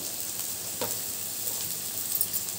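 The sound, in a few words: carrot and french bean pieces frying in pan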